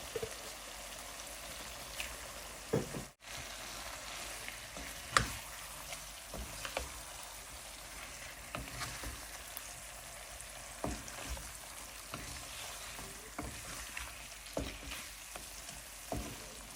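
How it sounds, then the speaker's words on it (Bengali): Rohu fish heads frying in spice paste give off a steady, close sizzle throughout, broken by occasional sharp clicks and scrapes of stirring. "আমি মাছের মাথাগুলো দিয়ে দিব আর মাথাটা আমি একটু ভালোভাবে কষিয়ে নেব"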